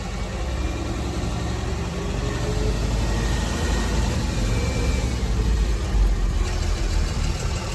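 A driving-school vehicle's engine idles and rumbles steadily at low speed as it pulls back up during a cone backing exercise, a constant, fairly loud drone with no talk.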